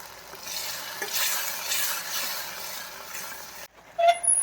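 Gravy for a stuffed brinjal and potato curry is stirred in a pan over a high gas flame, a close scraping swish with a steady sizzle, briefly breaking off near the end.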